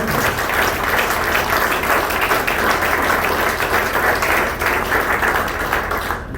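A church congregation applauds during a sermon, thick sustained clapping from many hands that stays loud and even for several seconds before thinning slightly at the close.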